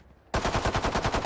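Loud automatic gunfire from a Valorant match in an esports tournament semifinal bursts in suddenly and rattles as a rapid, even string of shots for about a second.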